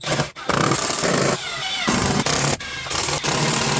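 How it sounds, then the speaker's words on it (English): A power drill drives screws to mount car audio amplifiers onto an equipment board: loud whirring bursts broken by several short pauses as each screw goes in. "I'm just putting 2 screws in each just to keep everything level"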